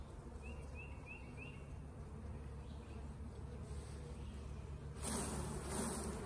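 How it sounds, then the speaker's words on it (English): Honeybees from a swarm buzz steadily around the frames of a nuc box outdoors on a farm, a continuous close drone with a few passing individual bees, growing louder near the end. "Oh, we have some more bees over here as well."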